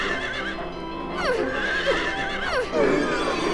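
A horse in the video game Silent Hill 3 whinnies loudly several times in quick succession, with wavering, falling neighs, over a steady low game background and faint hoof clatter.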